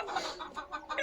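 Free-range village chickens cluck in short, repeated bursts under a tin-roofed shade on a poultry farm, fairly close and moderately loud, with no talk over them.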